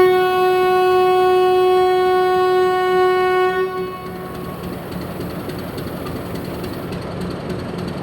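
A train moves along a railway line in the morning, a loud steady tonal hum and rumble close by that drops away after about four seconds into a softer rattling roll.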